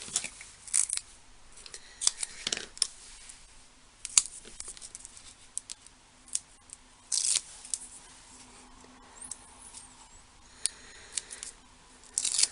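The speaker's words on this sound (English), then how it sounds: "And then cut some more pieces." Scissors cutting small pieces of card stock for a folded easel card produce sharp, close snips in irregular short bursts separated by quiet pauses, with light paper rustling in between.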